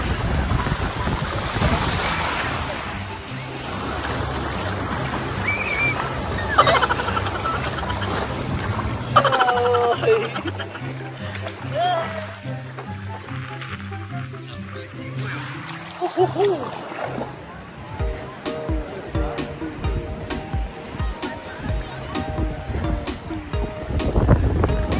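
Sea waves at a Boracay beach with fine sand and clear water, surf washing in and out near the shore amid gusts of wind buffeting the microphone, with people's voices mixed in.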